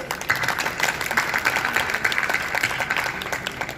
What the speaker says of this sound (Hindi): थोड़ी जोरदार तालियां बजाएं